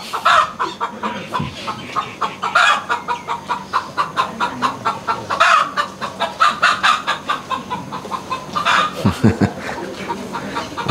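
A chicken clucks in a rapid, rhythmic series of close, sharp calls, with a few louder squawking bursts mixed in.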